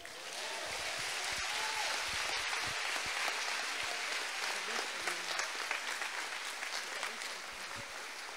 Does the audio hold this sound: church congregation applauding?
yes